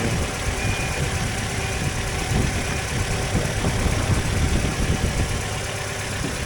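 A 2002 Mazda Miata NB with a five-speed gearbox runs at a wrecking yard. Its engine makes a loud, close, steady drone that continues without a break, with no voices.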